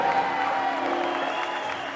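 An audience applauds steadily and densely at the men's final of the 2012 French lead climbing championship in Arnas, a thick, even wash of clapping throughout.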